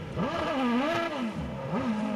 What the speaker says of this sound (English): And the car's fired up. I can hear that in the background.